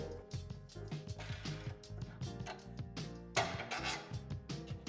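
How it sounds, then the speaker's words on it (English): A basketball hoop's adjustment knob is loosened and its bolt removed, giving faint metallic clicks, ratcheting and clattering handling noises that come in irregular bursts, close by, with no talking. "Loosen the adjustment knob on the back and then remove the bolt"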